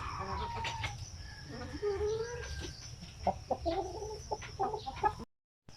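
A broody hen settled in a backyard chicken house clucks close by in uneven bursts, low grumbling notes rising into sharper calls, while other fowl sound faintly in the background; no one speaks.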